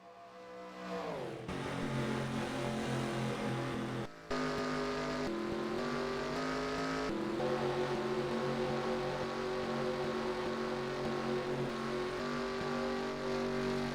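Race cars in the JMR Cup at Daytona roar close by with a sustained engine howl that climbs through the gears, briefly drops, then surges again as the pack races back to the line.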